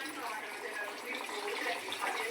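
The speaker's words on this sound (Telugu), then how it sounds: "వాటర్ పోసి" Water is poured into a pot of country chicken curry, giving a steady, close splashing gush that runs unbroken from start to end.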